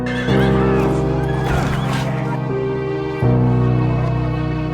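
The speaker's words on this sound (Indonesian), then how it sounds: "Biarawan itu lalu kabur dengan menaiki kuda milik Jack cuy" A horse neighs loudly and repeatedly in a film scene as a monk escapes on it, with long harmonic whinnies and a brief snort between calls.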